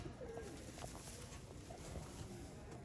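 A female pigeon kept at home coos softly in a few short, low calls over faint background noise.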